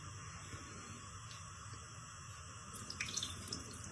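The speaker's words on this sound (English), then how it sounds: "Fill the bowl with water, kind of give them a bit of a rub." Cut potatoes are rubbed and rinsed in a bowl of water, giving a steady, low wash of running and splashing water with a brief burst of sloshing near the end, close and fairly quiet.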